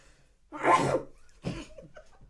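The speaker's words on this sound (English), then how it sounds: "He's like a tornado when he sneezes normally." A single loud, close sneeze bursts out, followed a moment later by a shorter breathy exhale or second smaller sneeze.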